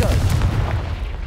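A Confringo spell explodes in Hogwarts Legacy as a loud, close, booming blast with a deep rumbling body that stays dense and heavy for a second before fading slightly.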